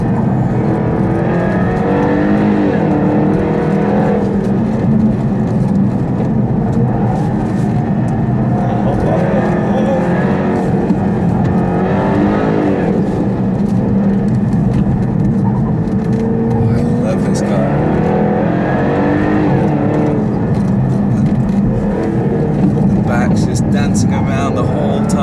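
A Dodge Hellcat accelerates hard with its wheels spinning, a loud, sustained engine roar that stays up close the whole time while someone talks over it.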